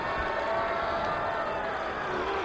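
Steady roar of an arena crowd during a wrestling match in WWE 2K24, a continuous loud wash of cheering noise with a faint tonal drone underneath and no distinct breaks.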